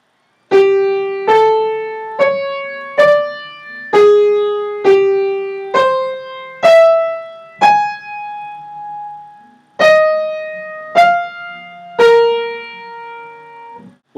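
A Schoenberg twelve-tone row in retrograde inversion plays as about a dozen separate sustained notes, one after another at a steady pace with a brief pause midway, each note clear and ringing alone with no talk.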